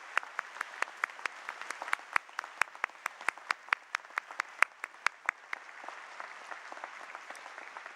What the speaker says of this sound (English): Shall we put our hands together, give them a good round of applause, our new Hong Kong youths.